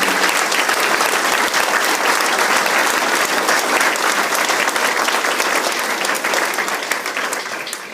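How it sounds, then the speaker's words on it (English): Loud, dense applause from a crowd at a community informational meeting for Woodhaven Lakes, honouring the fire chief, sustained evenly for several seconds with no speech. "your chief over here deserves a round of applause as well for his public safety efforts"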